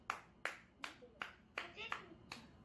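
Scattered hand claps sound at a presentation ceremony for a competition, about seven sharp claps in a loose, slightly uneven rhythm, faint and thin as if from only a few people rather than a full crowd.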